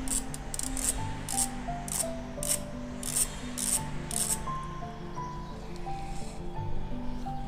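Ratchet fitted with an extension stem turning a fastener during a KTM Adventure 390 radiator grill installation, a run of quick clicking bursts that fade into a steady rubbing hiss, close and fairly quiet.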